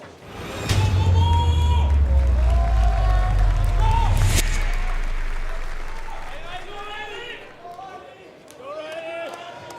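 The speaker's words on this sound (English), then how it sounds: "And you can hear the crowd into it here." A large arena crowd at the Clash Royale League World Finals cheers and roars loudly, the swell fading gradually while a commentator talks over it.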